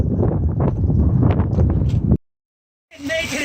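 Wind buffets the microphone with rustling, pattering hail and rain at Lucerne Marina near Flaming Gorge, loud and continuous for about two seconds, then cutting out briefly before resuming.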